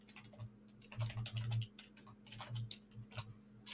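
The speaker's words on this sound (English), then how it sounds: "Typing too fast." Quick bursts of keystrokes on a computer keyboard, close and fairly loud, with uneven clusters of clicks and short pauses over a steady low electrical hum, no talking.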